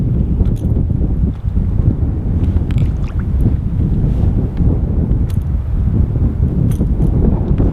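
Strong wind buffeting the microphone on a kayak during a fishing trip in high winds, a loud continuous rumble with gusty swells and occasional splashes and creaks, no one talking.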